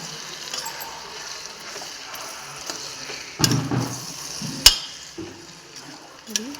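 A spoon stirs beaten egg through fried rice in a hot pan, giving soft scraping and faint sizzle with a few sharper clacks of utensil against metal, quiet and close.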